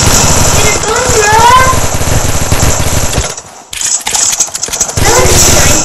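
Rapid automatic gunfire from a P90 submachine gun in the video game Fortnite, loud bursts mixed with game sounds and excited voices talking over the action, with a brief lull before the firing picks up again.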